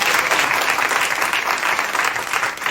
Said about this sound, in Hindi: इन सब के लिए ताली बजा दो दोस्तों